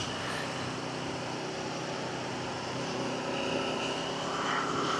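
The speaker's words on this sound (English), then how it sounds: "Really nice motorcycle. Quite loud actually." Loud, steady engine drone and exhaust roar from an Aprilia RSV4 motorcycle with its stock exhaust, heard continuously while riding past aircraft hangars, with wind rush and no speech.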